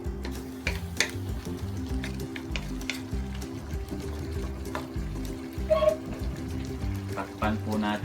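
Bay leaves and salt stirred into a simmering pan for creamy chicken pastel, with a steady frying sizzle, rhythmic scraping strokes and a low hum running throughout.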